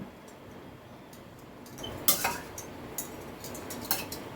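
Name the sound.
stirring lentils and greens together in a cooking pot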